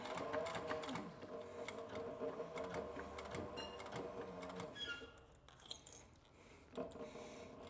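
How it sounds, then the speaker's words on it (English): A sewing machine stitches leather welting onto a Pony Express satchel, a loud, close, continuous rapid chatter that eases off and restarts near the end. "I'm just gonna sew."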